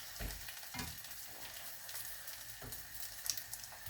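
An egg fries messily in a pan and is flipped over, giving a quiet, steady crackle with a few soft scraping thumps from the turner along the way.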